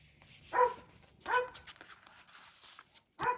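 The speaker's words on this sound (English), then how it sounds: "You can hear the dog barking next door." A dog next door barks three times at uneven intervals, short and muffled, coming from some distance away against a quiet background.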